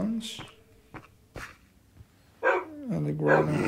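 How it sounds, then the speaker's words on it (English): Minecraft wolves barking in a video game: a few short, sharp barks spaced apart, followed by a louder drawn-out growl-like yelp near the end, fairly close. "Some dogs are barking normally."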